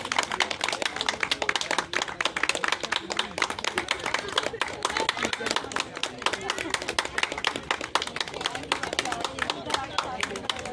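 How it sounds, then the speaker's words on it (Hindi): Steady, dense applause fills a sports club award ceremony for water sports, with many hands clapping continuously at moderate distance. Faint crowd murmur runs underneath. "तालियां बजती रहे"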